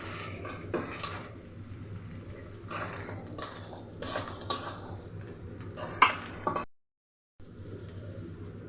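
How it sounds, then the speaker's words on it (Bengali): Chopped onions fry in a pan with a continuous hiss and sizzle, stirred with repeated scraping strokes. The sound cuts out briefly near the end, then a fainter sizzle resumes. "পেঁয়াজ কুচিটা একটু ভেজে নিচ্ছি, সামান্য একটু ভেজে নিলাম পেঁয়াজ কুচিটা"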